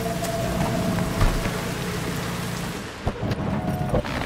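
Steady rain falls in Cyberpunk 2077 Phantom Liberty, with low rumbles of thunder and a few sharp cracks or thumps breaking through the wash of rain, and no talking.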